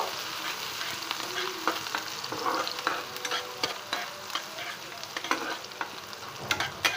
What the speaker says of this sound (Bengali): রসুন কুচি দিয়ে দিলাম, দিয়ে এখন এটাকে আমি ভাজা ভাজা একটু করে নেব।